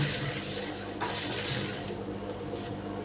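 Domestic sewing machine stitching a blouse lining, running steadily with a close, continuous mechanical whir and rattle, no talk.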